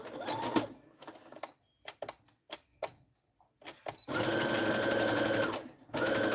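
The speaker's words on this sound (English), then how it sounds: "All right, so I'm gonna go ahead and sew." A sewing machine stitches a fabric popcorn pouch, running in short stop-and-go bursts at first, then in a long steady whir and a final short run, loud and close with no talking.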